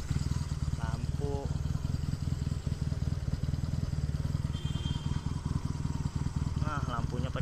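A 1976 Honda CB200 twin motorcycle idles close by at a steady low putter with a fast even rhythm. A person talks briefly over the engine.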